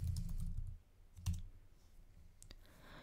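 A few soft keystrokes typed on a Mac computer keyboard, quiet and close, coming as scattered separate clicks with low thumps at the start.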